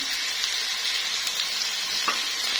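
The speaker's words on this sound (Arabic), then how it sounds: "البصلة هتاخد تشويحة كده" Chopped onion and garlic sizzle steadily in hot oil in a pan while a duck dish is being cooked, a dense, even crackle with a brief stir partway through and no talking.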